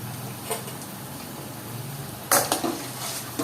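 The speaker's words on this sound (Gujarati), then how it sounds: "જો એકદમ સરસ રીતે આપણે ફ્રાય કરી લેવાની છે" Farali potato patties frying in hot oil, a steady low sizzle with a few sharper crackles and pops near the end, close and moderately loud with no talk.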